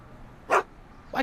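Einstein the dog from a Back to the Future video game gives two short, sharp barks about half a second apart, the second cut off at the end, heard alone over a quiet background.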